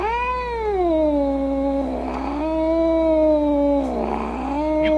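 Kittens caterwauling and meowing loudly up close, two long drawn-out wavering yowls with brief breaks between them.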